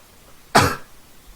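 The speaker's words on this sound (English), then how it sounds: "Sorry, excuse the cough." A single short, sharp cough breaks an otherwise quiet moment.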